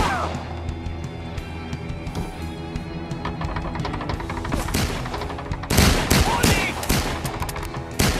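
Gunfire in the VR game Peaky Blinders: The King's Ransom on Meta Quest 2, a dense run of sharp shots over busy game noise, growing louder and harsher toward the end, with no speech.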